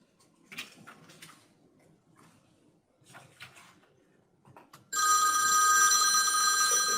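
A telephone rings loudly and continuously during a county board of commissioners meeting, the sustained ringing cutting in after several seconds of quiet, sparse talk in the room.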